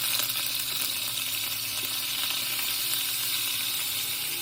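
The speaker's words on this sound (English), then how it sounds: "I'm getting ready to fry the marinated pork." Marinated pork frying in a pan gives off a loud, steady, close hiss of sizzling oil that holds even throughout, with no voices.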